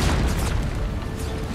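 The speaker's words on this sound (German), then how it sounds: "Kanonen reißen mit Sprenggeschossen neuerdings nicht nur Lücken in Schützenreihen, sondern auch Krater in die Landschaft" An explosive shell fired from a cannon bursts in the Napoleon: Total War video game, giving a deep, rumbling boom that stays loud and dense through the short moment with no break.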